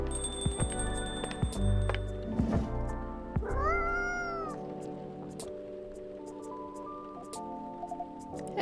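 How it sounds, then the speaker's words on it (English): A cartoonish cat meows a few times over light game music in Coffee Talk 2: Hibiscus & Butterfly, the meows short and clear, with a longer wavering one in the middle. "I don't think this is a coffee drinking sort of cat"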